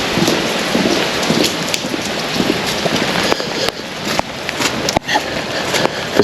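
Heavy rain pours down steadily in the open near trees, a dense, continuous hiss of drops hammering surfaces with a few louder splatters and no voices.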